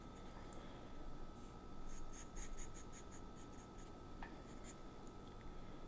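A graphite pencil strokes lines across drawing paper while a face is being sketched, producing soft, steady scratchy rubbing with short repeated strokes, faint and close, without talk.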